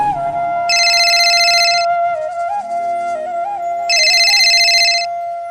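A phone rings on a call to Nandini, two separate bursts of bright electronic ringtone, each about a second long, sounding over a soft, steady background melody.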